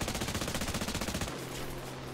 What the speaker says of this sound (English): Ivan! Start shooting!